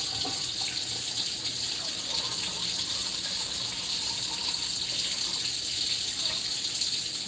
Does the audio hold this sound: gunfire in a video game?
no